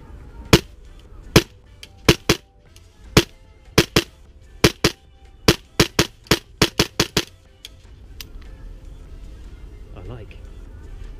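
A rifle fitted with a Holosun HS403A sight fires about twenty sharp, loud shots in quick irregular succession, the bursts ending after about seven seconds and followed by quieter background.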